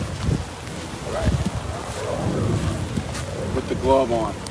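Steady outdoor rain hisses on a golf course, with wind rumble and people's voices talking over the downpour.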